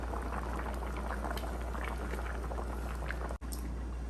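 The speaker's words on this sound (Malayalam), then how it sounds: "ഇനി അടച്ചു വെച്ച് നമുക്കിതൊന്ന് വേവിക്കാം" Fish curry simmering in a covered pot: a steady, close bubbling hiss that runs continuously, with a brief break near the end and no talking.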